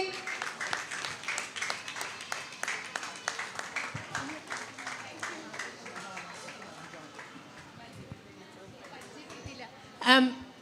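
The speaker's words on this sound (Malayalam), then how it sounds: "എല്ലാവരും ഒന്ന് കൈയടിച്ചേ." An audience applauds at a nursery school's annual day inauguration, the clapping mixed with steady crowd chatter and ending in a short, louder burst.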